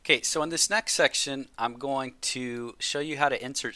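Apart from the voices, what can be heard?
None of the usual background noises is heard.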